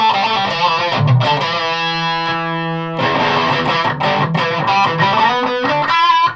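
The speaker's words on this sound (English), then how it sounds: "your wee 10 watt wasp in a jam jar type distortion" Heavily distorted electric guitar chords from a Boss Metal Zone MT-2W Waza Craft pedal ring out loud and buzzy, with sustained notes and choppy strummed bursts, no talking.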